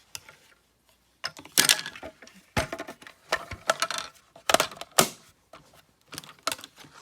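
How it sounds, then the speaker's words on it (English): A mini die cut and emboss machine is cranked with paper through it, giving a close, irregular series of sharp clicks, rattles and clacks with brief pauses between bursts. "I'll bring in my mini cut and emboss machine"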